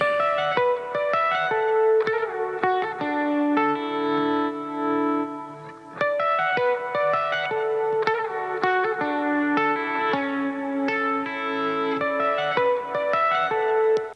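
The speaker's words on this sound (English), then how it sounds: "I have some sidechain going on this guitar part as the reverb automates through it" An effected electric guitar plays a repeating melodic pattern, washed in automated reverb and echo, its volume pumping rhythmically from sidechain compression; loud and up front, no voices.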